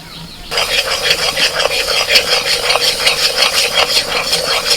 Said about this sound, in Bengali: বেসনটা ঘিয়ের মধ্যে দু মিনিট ভেজে নিয়ে